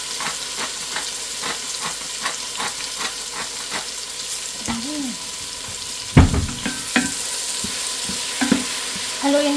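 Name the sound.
chicken with black pepper being stirred and fried in a pan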